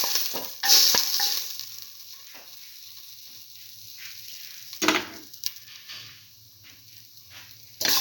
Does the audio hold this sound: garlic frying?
yes